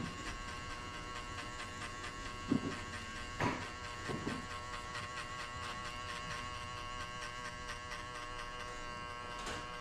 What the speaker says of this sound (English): put number 4 on a clipper and shave everything off